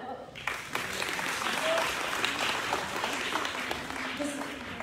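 An audience at a school GCSE and A-level awards ceremony in London claps in a dense, continuous patter, moderately close with a murmur of voices underneath.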